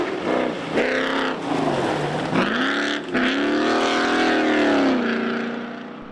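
Tomcat rally car driven hard on a special stage, engine loud and close, pitch rising and falling through several gear changes and throttle lifts, alone without commentary over it.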